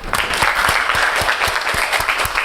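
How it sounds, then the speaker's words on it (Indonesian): A group of pupils in a classroom claps, producing sharp, fairly regular hand claps close by that carry on throughout the short stretch. "Oke, tepuk tangan."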